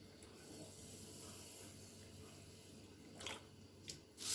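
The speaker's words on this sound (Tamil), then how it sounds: "இப்போ கோதுமை ரவையில் தண்ணி ஊற்றிடலாம்." Water is poured into a bowl of wheat rava (cracked wheat), a soft, steady trickle and faint splashing close by, ending in a couple of brief louder splashes, with no talking.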